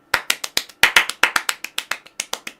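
Steady clapping from a single pair of hands, about fifteen sharp, close claps in a quick, even rhythm, applauding Celtic's Maeda as he is substituted off during a Celtic vs Rangers League Cup semi-final watchalong.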